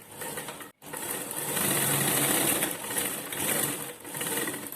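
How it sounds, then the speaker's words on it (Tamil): A sewing machine runs a skirt side seam, a steady close mechanical whir and rapid needle clatter in long runs, with one brief stop early on and slight dips in pace. "இப்போ ஒரு தையல் போட்டோம், இன்னொரு தையலும் போட்டுக்கலாங்க."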